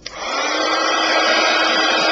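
A heat gun blows a steady, loud hiss that starts with a click and then holds constant, drying glitter on a frosted gift box, close up and alone.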